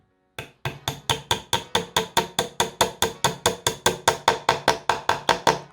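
Rapid, evenly spaced hammer strikes driving wooden pegs into an IKEA Kallax shelf, around twenty sharp knocks in a steady rhythm, close and loud, gradually ringing a little brighter.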